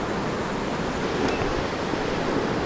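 High water rushing past a water-powered mill, a steady, loud, broadband roar with no breaks throughout, close by and unaccompanied by talk.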